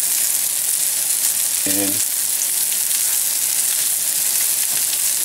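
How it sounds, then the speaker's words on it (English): Golden chanterelle mushrooms searing in a hot pan, a loud, continuous close sizzle and crackle, with a brief spoken word near the middle. "Now you're gonna start searing your mushrooms"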